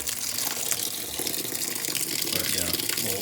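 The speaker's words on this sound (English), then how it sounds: "We'll let this fill" Water gushes steadily into a Whirlpool WTW5000DW top-load washing machine as it fills, a constant loud rushing and splashing with no pauses.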